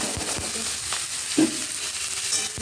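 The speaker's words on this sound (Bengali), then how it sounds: "এটা একটু আগে লাল লাল করে ভেজে নেব" Finely chopped onion and thinly sliced capsicum frying in a pan, a steady close hiss of sizzling oil with a few soft stirring knocks.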